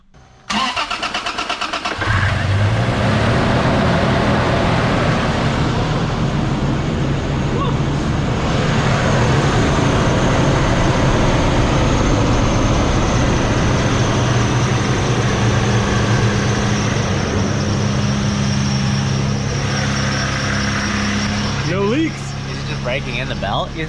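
A supercharged Toyota FJ Cruiser engine cranks and catches after a brief pause, then settles into a loud, steady idle with a faint whine running throughout, heard up close.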